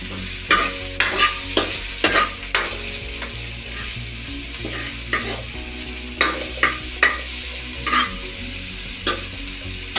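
Chopped onions frying for shahi paneer are stirred in a pan, a steady sizzle under a run of regular, sharp scraping and clinking strokes of the spoon, close and fairly loud throughout.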